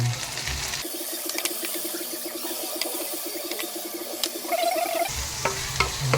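Tofu sisig with green and red chili, onion and liquid seasoning is stirred in a hot pan, a steady sizzle overlaid with rhythmic scraping strokes of a utensil, close and alone.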